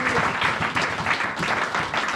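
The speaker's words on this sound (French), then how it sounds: "Acclamons, je dis pour les mamans." Crowd applauding for mothers at a Christian church gathering, a brief wash of steady clapping with faint voices mixed in.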